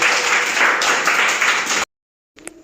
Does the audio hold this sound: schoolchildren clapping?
yes